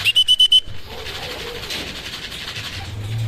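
A racing pigeon arrives at the loft during a training and pooling race in Sta. Rosa, Laguna, with a quick run of bright electronic beeps from the clocking device followed by wingbeats and shuffling movement nearby.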